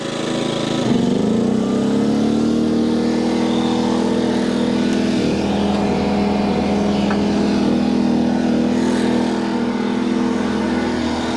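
An air compressor plugged into a lightweight portable generator starts up with a jolt and then runs loud and steady, its droning hum holding even over the generator's engine noise.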